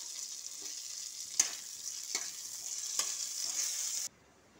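Chopped tomatoes with salt sizzling in hot oil with five-spice tempering, a steady bright frying hiss with a few spoon scrapes, alone and near, cutting off abruptly at the end.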